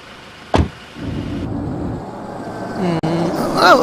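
Engine hum of a car being driven, a low steady drone heard from inside, with a sharp thump early on and a voice briefly speaking near the end.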